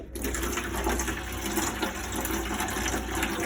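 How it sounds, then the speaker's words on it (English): Water running from the bathroom sink tap of a Compass Avantgarde 100 campervan, a steady close rushing and splashing stream that continues evenly throughout with no talk. "So if I open the sink down, you've obviously got your water that would come out there"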